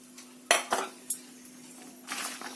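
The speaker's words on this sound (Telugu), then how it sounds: "ఇలాగ తడి లేకుండా మనం దీన్ని పొడి పొడిగా కలుపుకుందాము. వేరుశనగ పప్పులకి ఈ శనగపిండి పట్టేటట్టు" A utensil scrapes and clinks against a bowl as peanuts are tossed dry with gram flour for masala peanuts, a few sharp knocks standing out over a faint steady hum, with no talk.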